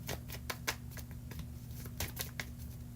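Quick, brisk shuffling of a tarot deck, a rapid run of light papery clicks and riffles repeating through the moment, close and clear above a constant low hum.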